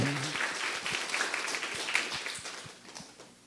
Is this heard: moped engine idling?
no